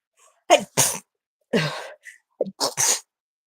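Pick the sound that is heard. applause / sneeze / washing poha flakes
sneeze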